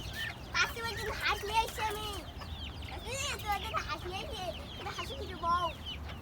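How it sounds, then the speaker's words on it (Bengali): Domestic ducks call close by around a home, a busy run of overlapping squawks and quacks over a low steady hum, with people talking throughout. "ওই যে হাঁস দেখতেছে রায়ন হাসির সাথে দুষ্টামি করতেছে"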